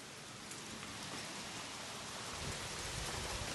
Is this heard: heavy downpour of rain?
yes